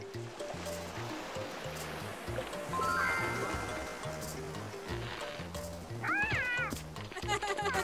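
A cat meows in the Petz Catz 2 video game, a few short rising mews near the end over a looping game backdrop with water-like ambience and a repeating low musical pattern.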